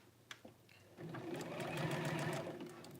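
A sewing machine starts up after a few small clicks and runs in a steady, close, rapid stitching whir that builds slightly in speed.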